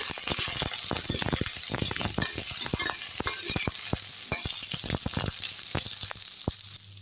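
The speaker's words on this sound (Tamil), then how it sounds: "இதுலேயே பச்சை மிளகாவையும் இஞ்சி போட்டுடலாம் அதையும் சேர்த்து வதக்கிடலாம்" Green chillies and ginger sauté with ridge gourd peel in a pan, giving a steady sizzle broken by many sharp crackles and pops, close and fairly loud throughout.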